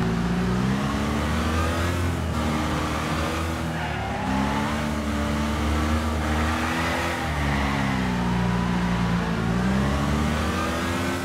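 Crown Victoria police car engine in Wreckfest, droning steadily and loudly throughout with repeated revving rises and dips as the car accelerates and shifts, tires scrubbing underneath, no talk.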